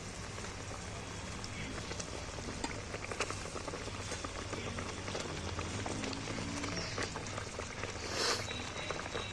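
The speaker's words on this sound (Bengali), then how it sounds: "ঝালটা ফুটে উঠেছে এইবার আমি মাছগুলো তুলে দিচ্ছি" Pieces of fish go into a boiling spicy fish curry, a dense steady bubbling and sizzling patter that holds evenly throughout, with a brief brighter hiss near the end.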